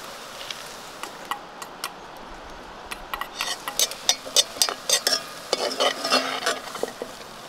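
Rice porridge cooks in a pot outdoors, with a spoon stirring and scraping against the metal in repeated clinks and scrapes over a soft bubbling background, growing busier toward the end.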